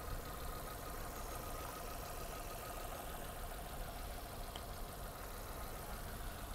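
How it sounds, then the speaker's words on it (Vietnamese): A 2008 Kia Morning with an automatic gearbox idles smoothly, a steady low engine hum with an even, fine pulse that holds unchanged throughout, close and continuous with nobody talking. "Máy lổ êm ro, các bạn nghe chưa"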